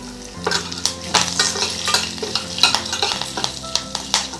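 Green chillies and curry leaves spit and crackle in hot oil for a temple-style curd rice tempering, a loud, steady close sizzle with scraping stirs and occasional spoon clinks.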